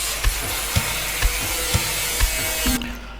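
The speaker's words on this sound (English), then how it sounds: "It's not painting, it's an angle grinder." An angle grinder from the Junkyard Simulator 2024 video game hisses steadily and broadly, with a soft rhythmic thump about every half second, then cuts off abruptly near the end and leaves quiet background.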